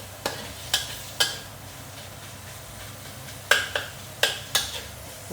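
Dried shrimp and pork crackling dropped into plenty of hot oil over low heat, a low background sizzle broken by sharp, evenly spaced clicks and knocks of a utensil against the wok, with no talk.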